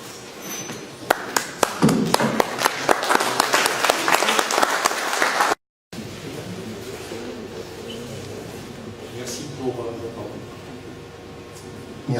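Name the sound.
audience applause at a debate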